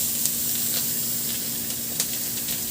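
Onion sizzling as it fries in a pan after garlic, a steady close hiss with a few brief louder crackles, no voices.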